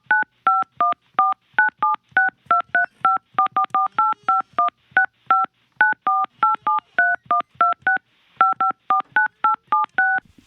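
Touch-tone telephone dialing to place a call, a long rapid sequence of clear, evenly spaced keypad beeps, with a brief pause before the final run of tones.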